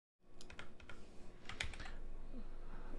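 A short run of keystrokes typing code on a computer keyboard, a handful of distinct clicks close to the mic, followed by a fainter steady background hum.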